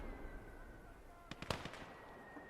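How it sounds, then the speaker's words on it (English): Explosions in the WWII strategy game Call to Arms - Gates of Hell, aimed at a motorcycle: a short cluster of sharp cracking bursts near the middle, faint against a low steady background hum. "That is a huge explosion, by the way"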